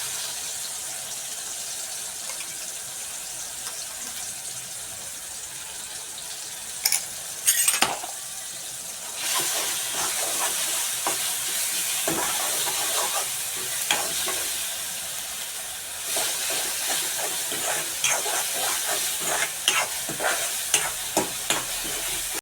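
Ground green chili paste fries in a pan for a gram-green dish, a long steady sizzle broken by scraping spoon strokes and a few clinks of metal against the pan.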